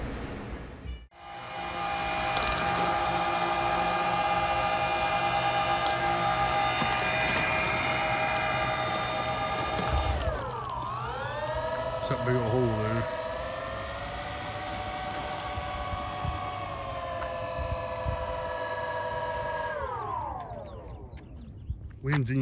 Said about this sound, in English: Already on the sticks with the Avios King Twin.